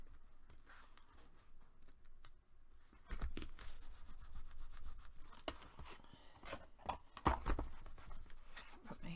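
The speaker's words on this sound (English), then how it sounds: "and give it a good burnish." Paper being burnished by hand on a handmade card design project, soft close rubbing and scraping strokes, irregular and quiet, growing busier midway.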